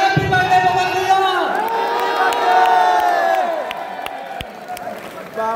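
A crowd at a birthday celebration cheers loudly and continuously, with whoops and excited shouting voices close by, the noise fading slightly toward the end.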